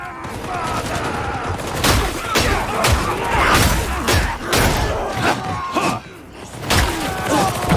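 Dense gunfire in Warhammer Darktide, a steady barrage of sharp shots and heavy thuds from a horde fight, with crew voices shouting over the loud, continuous battle.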